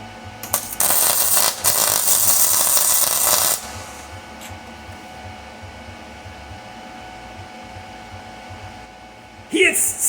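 Tack welding a bracket for a big carburetor manifold on a 2234cc Type 1 engine: a loud, steady crackling buzz lasts about three seconds, then fades to quiet workshop hum before a short clatter at the end.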